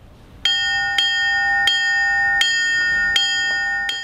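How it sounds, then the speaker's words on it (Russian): Church bells ring for Easter, a series of clear resonant strikes about every half second to second, each leaving a long ringing tone, loud and close with no voices. "можно будет часто слышать радостный звон церковных колоколов"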